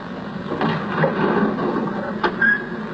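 A studio door for Doctor Who makes a rough, grinding scrape that runs for about three seconds, with a few sharper clicks over a steady noisy rasp, heard close and on its own.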